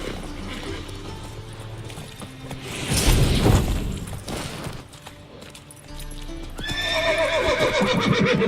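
Horses in The Witcher 3 video game, hooves clopping and shuffling with a low rumble, then a loud, close whinny rising near the end, no speech over it.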